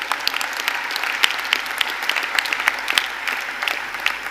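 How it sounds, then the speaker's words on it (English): An audience at the WCIT 2019 closing ceremony claps steadily in a dense, even applause that holds across the whole stretch without voices. "big applause to them"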